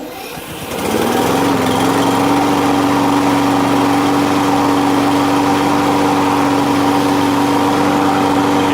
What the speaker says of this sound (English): once you hear the engine starting to run